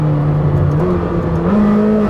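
A Lamborghini hybrid V8, the engine from the Revuelto, revs up close and loud, its tone stepping upward through rising harmonics over about two seconds.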